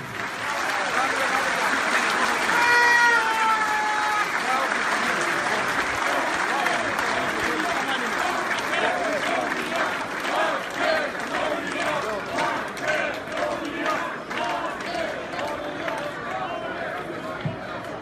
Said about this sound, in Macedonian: Ве молам еден аплауз за децата бегалци.